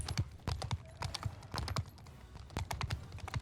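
Cavalry horses' hooves in Mount & Blade II: Bannerlord, a steady, irregular patter of clip-clop hoofbeats from several mounts at mid distance, moderately faint with no talk over them.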